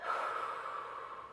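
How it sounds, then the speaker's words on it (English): A single deep breath drawn in close to the microphone, a soft, airy inhale that swells briefly and fades, heard alone without speech. "take a breath"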